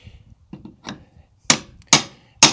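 Old wooden trim pried and knocked off a porch post, starting with soft scraping and creaks, then three sharp, loud wooden knocks spaced roughly half a second apart near the end, with no talking.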